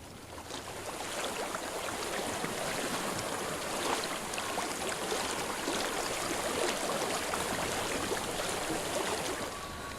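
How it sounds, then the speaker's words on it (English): A flowing stream in the video game Hellblade: Senua's Sacrifice, a steady broad rush of running water lasting the whole stretch, even and moderately close with no voices over it. "I hear water."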